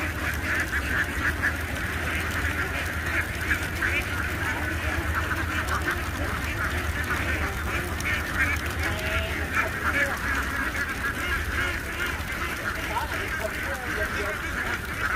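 A huge farm flock of about 7,000 ducks quacks in a dense, continuous chorus, loud and steady throughout with no pauses.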